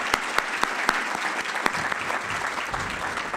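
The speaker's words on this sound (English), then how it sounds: "I think you deserve a round of applause." An audience at an Akron Public Schools event applauds a teacher with a brisk, even round of clapping that fills the whole few seconds.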